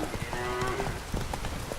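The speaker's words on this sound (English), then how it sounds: "Cows!" A single drawn-out cow moo in The Witcher 3: Wild Hunt rises over steady rain and soft clip-clopping horse hooves, with faint game ambience throughout.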